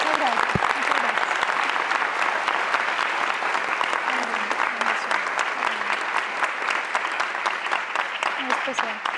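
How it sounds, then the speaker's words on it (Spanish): An audience gives steady, sustained applause throughout, with a voice faintly audible beneath the clapping. "Yo creo que un aplauso es lo mínimo que podemos."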